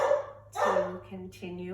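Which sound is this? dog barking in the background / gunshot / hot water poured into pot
dog barking in the background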